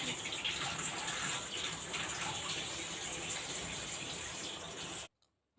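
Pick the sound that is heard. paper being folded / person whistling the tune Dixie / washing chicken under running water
washing chicken under running water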